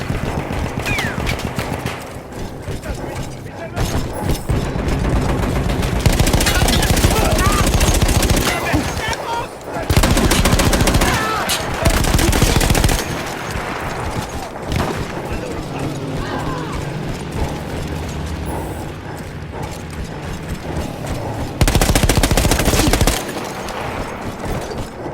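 An anti-aircraft gun fires in the Battlefield 1 battle game, with loud mechanical clanking and bursts of gunfire that come and go over a steady war din.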